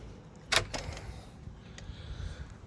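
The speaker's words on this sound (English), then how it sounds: "Okay, let me open up the other door here." The sliding door of a backyard chicken coop is pushed open with a short scraping rattle, followed by a few fainter knocks and rustles, close by with no talking.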